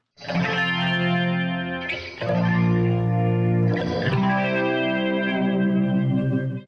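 Sustained electric guitar chords played with heavy distortion and chorus, ringing loudly with brief breaks between strummed changes, no voices.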